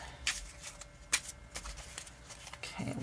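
Playing cards shuffled by hand for a tarot-style stone reading, a series of soft riffling bursts and crisp flicks, close and fairly quiet, with no talking.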